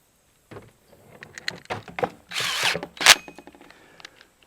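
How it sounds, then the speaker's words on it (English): Power drill with a hole saw cutting into a plastic rain barrel: a short burst of whirring grind and a sharp bite, amid handling knocks and clatter, up close. "And we'll drill this hole."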